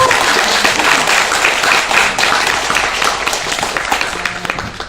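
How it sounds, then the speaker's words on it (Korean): An audience at a Seoul library talk and concert bursts into warm applause, a dense, even wash of many hands clapping that carries throughout without pause. "박수를 한번 쳤으면 좋겠습니다"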